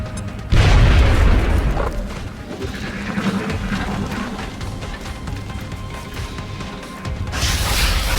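A grenade explodes in a video game, opening with a deep, loud boom and then a long rumbling, crackling aftermath, with a fresh bright burst of noise near the end.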